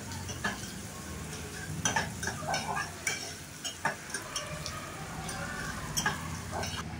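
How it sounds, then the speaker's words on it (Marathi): Onion and ginger-garlic paste sautéing in oil and butter in a pot for instant pav bhaji, with a steady sizzle under repeated clinks and scrapes of a spoon stirring against the metal. "तर आता हे पण चांगलं तेल कांद्यामध्ये परतून घेऊया।"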